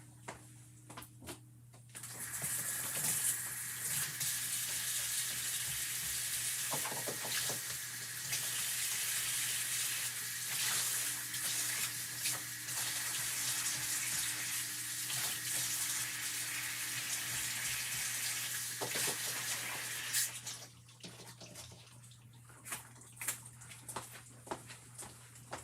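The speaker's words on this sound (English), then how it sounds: "I'm just going to go wash my transfers because we're going to use them on the little blocks." A tap runs steadily for nearly twenty seconds as chalk transfers are washed in a sink, a soft, even hiss of flowing water that stops cleanly, followed by faint handling noises.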